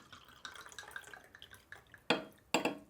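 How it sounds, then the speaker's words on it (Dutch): A drink is poured into a glass from a freshly opened bottle, close-up light trickling and dripping followed by two sharp glassy clinks near the end. "Ik ga jou een glas ook inschenken."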